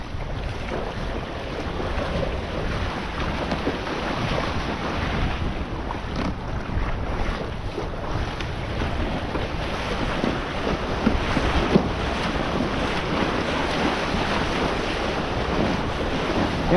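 A McKee hydrofoil sailboat rushes through the waves with steady wind roaring over the microphone and water hissing continuously past the hull, close and loud throughout.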